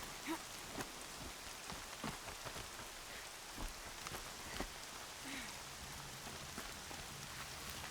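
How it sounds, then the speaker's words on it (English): Rain falls in the game Horizon Zero Dawn, a soft, continuous patter on surfaces with scattered heavier drops and faint low rumbles, quiet and distant, with no talk. "The rain did not make that easier"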